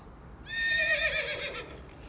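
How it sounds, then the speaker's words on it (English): A horse lets out a single shrill whinny lasting just over a second, rising and then trailing off in a shaky descending neigh, close and alone. "H is for horse."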